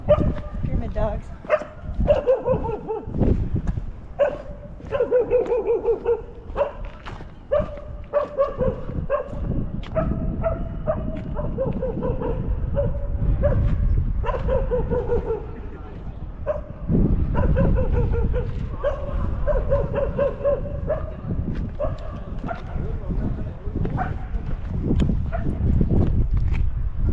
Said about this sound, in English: Pyramid dogs.